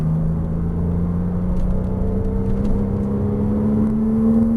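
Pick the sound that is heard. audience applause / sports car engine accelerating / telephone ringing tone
sports car engine accelerating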